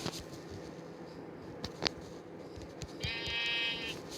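A synthetic-sounding Minecraft sheep bleat rises briefly near the end, over a low background hum, with a couple of short clicks before it.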